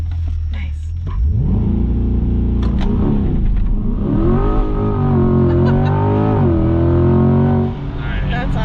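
A 2021 Chevrolet Corvette Z51 in PTM Sport mode launches and accelerates hard, its loud engine note climbing through the gears with a brief dip between shifts, close and dominant throughout.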